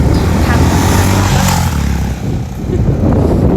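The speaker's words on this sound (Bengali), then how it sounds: "বাইকের কি আওয়াজ!" A motorbike engine roars loudly and steadily close by for the whole stretch, dipping briefly before surging again.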